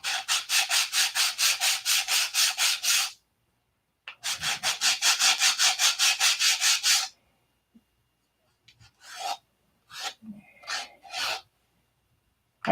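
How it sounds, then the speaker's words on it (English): Plywood is sanded down to the basswood beneath in rapid, rhythmic back-and-forth rasping strokes: a steady run, a brief pause, a second run, then a few scattered short scrapes near and clear. "we'll just sand the plywood off down to the basswood"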